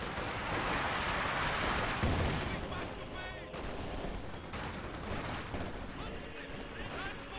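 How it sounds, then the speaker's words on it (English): Gunfire from a machine gun in Company of Heroes 2, a World War II strategy game, clattering in dense continuous bursts with battle noise, under someone speaking over the match. "Machine gun ready."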